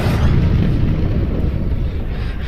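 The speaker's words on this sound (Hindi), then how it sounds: "तभी अर्जुन के कानों में अपने बगल में एक धमाके की आवाज सुनाई दी" An explosion sound effect for a Hindi horror story, a heavy, rumbling boom that starts loud and rolls on as a low, dense roar, fading only slightly over two and a half seconds.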